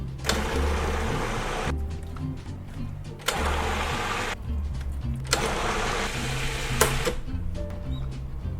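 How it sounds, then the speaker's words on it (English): A blender purees rutabaga with coconut milk, agave syrup, lime juice and salt, running in a steady loud whir with several surging pulses and brief dips, close by and without talking. "we're gonna puree this until smooth"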